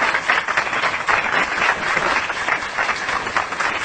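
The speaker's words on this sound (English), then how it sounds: "save the applause till the end." A crowd applauding steadily, dense clapping filling the room without a break for the whole stretch, loud and close.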